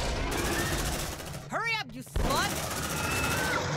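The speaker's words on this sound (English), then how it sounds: "Good shotgun work." Shotgun fire in the sci-fi video game Aliens: Dark Descent: loud, dense bursts of blasts fill the clip, broken midway by a brief rising, warbling cry before the gunfire resumes.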